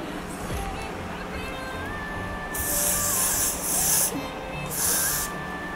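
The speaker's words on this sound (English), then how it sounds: "I'm gonna go in with my Got to Be freezing spray" Got2b freezing hairspray misted onto a lace front wig in three short hissing bursts, close and fairly loud, over faint background tones.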